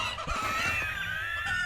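Chickens cluck and squawk continuously in the Rimworld video game, a dense, steady flock of overlapping calls with no talking.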